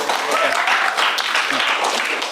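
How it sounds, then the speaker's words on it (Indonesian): A burst of dense applause from a class during an economics lesson, with voices mixed in beneath the clapping. "tepuk tangan buat kita semua"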